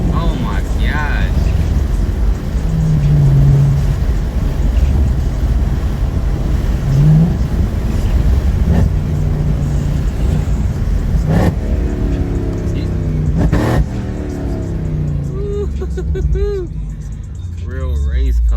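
A powerful car engine roars and revs up and down at close range, a loud continuous drone with people talking over it now and then.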